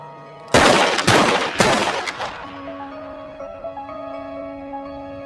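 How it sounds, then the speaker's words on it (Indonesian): Gunshots in the film Carriers: a loud sharp crack followed by a second and third report in quick succession, each decaying into a ringing tail, then a sustained tonal hum underneath. "Akhirnya Danny pun dengan berat hati menembak kakaknya tersebut hingga tewas."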